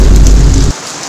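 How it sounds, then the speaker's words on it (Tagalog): Heavy rain pours down in a dense, loud wash with a deep thunder rumble underneath, the low roar cutting off abruptly near the end while lighter rain hiss continues. "Grabe lakas ng ulan guys,"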